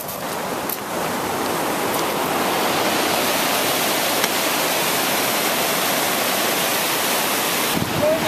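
Rushing white-water rapids on an Oregon river: a loud, steady, broadband roar of churning water that holds constant throughout, close by and with no clear voices over it.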